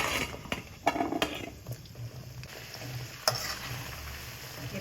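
Drumstick pieces for pickle frying and being stirred in a pan, a steady close sizzle broken by a few sharp scraping and clinking stirs, with no talk.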